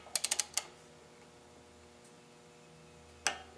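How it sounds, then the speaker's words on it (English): A torque wrench tightens a jam nut on a Kohler Courage XT lawn mower engine, giving a quick series of sharp metallic ratchet clicks, then one more click after a quiet gap, close and crisp. "take your torque wrench and tighten down the jam nut to 84 inch-pounds"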